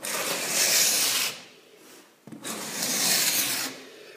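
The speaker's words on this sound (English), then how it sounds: "And the spots where you can't get up, usually come up with a scraper." A hand scraper drags across a hardwood floor, stripping the finish in two long, rough rasping strokes separated by a brief pause, close and clear.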